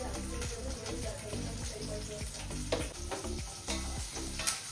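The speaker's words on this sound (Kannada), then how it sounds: "ಇವಾಗ ಫಸ್ಟ್ಗೆ ಇದಕ್ಕೆ ಜೀರಿಗೆ ಹಾಕ್ತಾ ಇದ್ದೀನಿ. 2 ಬ್ಯಾಡಗಿ ಮೆಣಸಿನ್ಕಾಯಿ ಹಾಕೊಂಡಿದ್ದೀನಿ." Cumin seeds and two dried Byadgi chillies crackle and sizzle steadily in hot oil in a pan, close and continuous, with a soft stirring scrape and faint background hum throughout.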